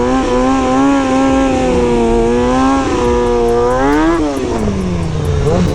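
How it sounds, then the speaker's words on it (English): A motorcycle engine roars steadily up close as the bike rides toward the listener inside a jail cell block, its pitch dipping and rising with throttle changes, loud and continuous. "Why is Eli riding right towards me?"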